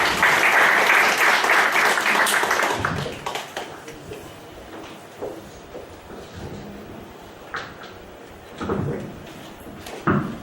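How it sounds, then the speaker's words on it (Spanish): Audience applause fills a lecture hall, loud and dense at first, then thinning into scattered claps, knocks and shuffling sounds that come and go. "Un fuerte voto de aplausos,"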